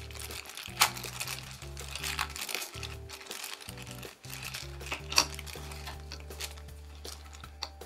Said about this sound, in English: it's going to come in a little plastic bag here, well protected. I'm going to open that up